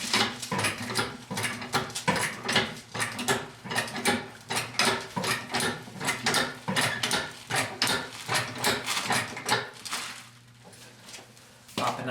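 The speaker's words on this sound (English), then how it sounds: "Just want to jack up the vehicle so that the weight is off the tires" A jack raising a Honda Accord off the ground, a steady series of close mechanical ratcheting clicks pumped in regular rhythm, slowing near the end.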